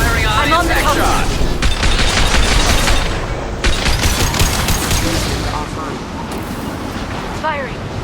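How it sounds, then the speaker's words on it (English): Dense sustained gunfire in Mass Effect 2 during a combat sequence, loud near bursts of automatic shots layered with explosions and rattle, nearly continuous for the whole span, with a voice speaking over the action. "Firing. This should slow them down. I'll take the shot."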